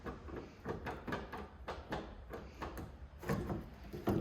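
A flathead screwdriver wiggles and pries at a Nissan 350Z door handle, producing a quiet series of short plastic clicks and scrapes in irregular rhythm, close up.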